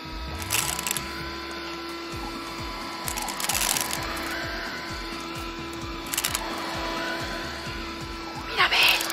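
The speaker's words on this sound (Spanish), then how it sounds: "¡Tenemos que aspirar!" A toy vacuum cleaner whirs with a steady mechanical hum and repeated rhythmic clicking, close by, while a voice chatters over it in Spanish and playful music plays.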